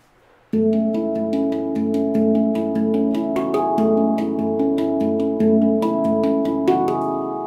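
A quick handpan melody, a sped-up version of a New York subway piece, rapid ringing metallic notes over sustained low tones, played briskly and close, with no voices.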